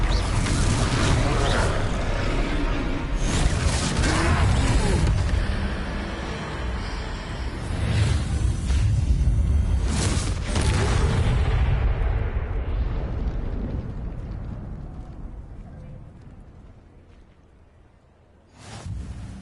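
A Confringo fire spell explodes during a troll fight in Hogwarts Legacy, heavy booming blasts and rumbling that swell twice, then fade into a long decaying roar before one final sharp burst near the end.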